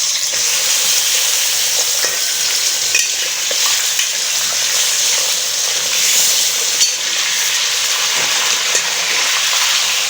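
Chicken frying in hot vanaspati ghee in a karahi, a loud, constant close-up sizzle with scattered pops and the scrape of stirring, with no voices.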